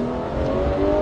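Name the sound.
Porsche GT3 991 race car accelerating on track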